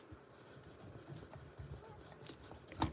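Flexcut honing compound is rubbed onto a leather strop, a soft continuous scraping and rasping rub with rhythmic strokes, close and quiet, ending in a sharper knock.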